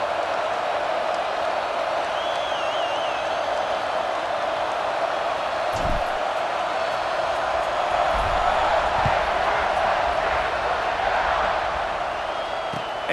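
A large football stadium crowd roars steadily at kickoff of an Alabama versus Ohio State game, with loud sustained cheering and whoops filling the whole stretch, distant and dense.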